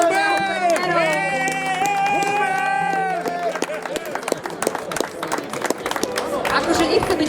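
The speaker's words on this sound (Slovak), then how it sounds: "títo chlapi dostali asi najväčší potlesk" Applause at an archery competition awards ceremony: after a few seconds of voices, a crowd breaks into sustained, lively clapping that builds toward the end.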